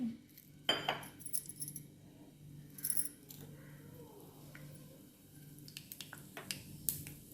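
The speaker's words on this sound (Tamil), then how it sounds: "இப்போ எண்ணெயை ஊற்றிட்டேன், கடுகு போட்டுட்டேன்" Mustard seeds crackle and pop in hot oil in a pan, scattered sharp snaps coming in irregular bursts over a quiet background, close and fairly faint.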